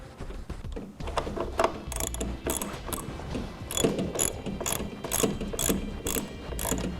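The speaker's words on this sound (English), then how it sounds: "we can go ahead and put our bolt back in down here and tighten that up on both sides" A hand ratchet clicks in quick, uneven strokes while tightening a bolt on the rear roll bar of a Jeep, the sharp metallic pawl ticks close and prominent with no talking.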